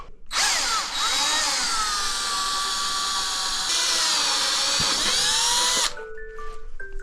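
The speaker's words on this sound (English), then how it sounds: "and make the hole a 22. I do not have a vise, so the next best thing is this." Power drill with a step bit boring a 22 mm hole in the aluminium front timing cover of a BMW M50 engine, a loud close sustained whine that dips in pitch under load, then stops and leaves faint workshop noise.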